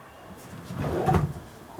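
A solid maple, dovetailed cabinet drawer on roller guides slides open or shut nearby, a single smooth rolling sweep that swells and fades within about a second in an otherwise quiet room.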